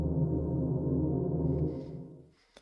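A sustained ambient synth tone from the Mid Scattered World oscillator in the Lost Reveries instrument, holding steady and full before fading out, with a faint soft tail at the end.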